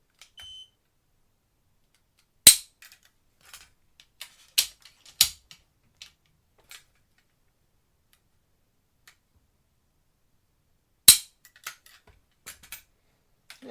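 Remington 700 rifle trigger bump-tested on a quiet bench: a few isolated sharp metallic clicks and snaps, spaced seconds apart, with small ticks and handling taps in between.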